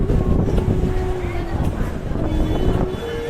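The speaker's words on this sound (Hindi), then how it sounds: "बहुत ही ठंडी हवा और बहुत तेज हवा चल रही है" Strong, cold wind with rain at Katra on the Vaishno Devi pilgrimage route makes a loud, continuous roar of buffeting gusts across the microphone, steady throughout.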